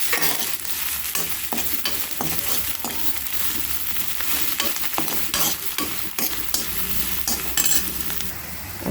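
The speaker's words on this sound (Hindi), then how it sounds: "हरी मिर्ची, कोतमीर, पुदीना डालेंगे। इसके डालने चाहिए प्याज का हमें कच्चापन जाने तक फ्राई कर लेना चाहिए।" Onions fry in a pan with green chili, coriander and mint for aloo samosa filling. A steady close sizzle runs under frequent scraping and stirring clicks from a spoon, with no talking.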